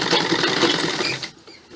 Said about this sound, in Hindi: हमने ये बीच में पाइपिंग के साथ ये कपड़ा सिलना है